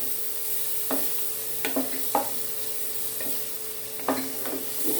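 Onions sautéing in a pan for picadillo, a soft steady sizzle beneath repeated spatula scrapes and knocks against the pan, several strokes spaced irregularly, close by.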